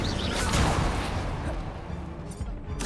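Incendio fire spell cast in Hogwarts Legacy, a broad roaring whoosh of flame that swells early and slowly fades, carried over a thick wash of combat noise, with a bright crack near the end.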